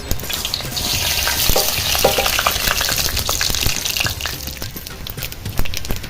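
Mustard seeds, cumin, urad dal and chana dal sizzle in hot oil for tempering, a close steady frying hiss with scattered sharp pops and a few light stirring clicks, without voices.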